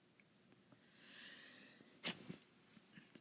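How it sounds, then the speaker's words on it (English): A person sneezes once, sharp and close, during a state board haircut demonstration. The sneeze breaks a quiet stretch and is followed by a smaller breathy sound. "Excuse me, I sneezed."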